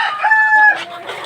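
A Talisay fighting rooster crows close by inside a cage, one short loud raspy call that rises and then trails off into a throaty finish.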